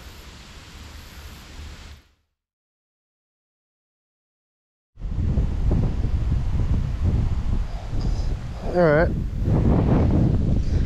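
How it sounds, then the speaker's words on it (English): Strong wind buffets the microphone outdoors by a river, a loud broadband roar that cuts out briefly, then returns heavier with low rumbling gusts; a voice speaks briefly amid it. "Super windy still."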